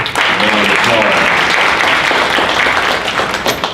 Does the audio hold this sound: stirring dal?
no